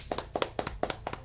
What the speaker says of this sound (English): 20 claps for X Soda.